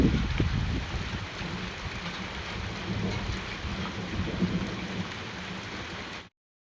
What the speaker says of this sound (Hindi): जैसे ही शाम का वक्त होता है बारिश शुरू हुई।